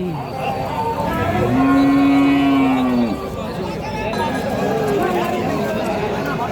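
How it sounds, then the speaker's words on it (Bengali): A Sahiwal heifer at a Bangladeshi cattle market lets out one long, loud, low moo, surrounded by the steady chatter of a crowd and people talking nearby. "বকনা গাভী"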